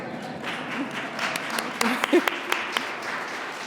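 An audience at a report announcement event gives faint applause. It is a soft patter with a few sharper claps coming through, set back and spread out.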